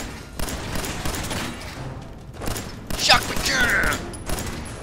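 Gunshots and mechanical weapon clatter in the video game Fallout 4, a few sharp bursts over a busy game soundscape, with a voice shouting over it.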